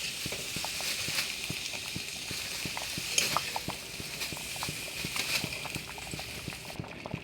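Turmeric and vegetables go into thick khichuri in a pan, with steady scraping stirs and soft sizzling bubbling in a regular rhythm, close and moderate, no voices.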